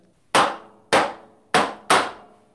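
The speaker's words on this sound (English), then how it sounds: "when you hammer" A hammer strikes a drum to tune it, giving four sharp, close taps at uneven intervals; each one cracks loudly and then decays quickly with a short resonant ring.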